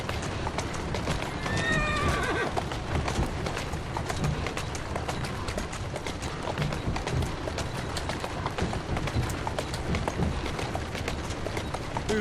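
A mare walks with soft, steady hoofbeats for a long stretch, and a short whinny comes early on. The sound stays fairly faint and even throughout.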